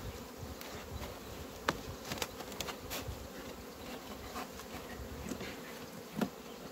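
Honey bees buzzing around an opened beehive in cold weather, a dense continuous hum from many insects close by, with a few individual bees droning louder as they pass near.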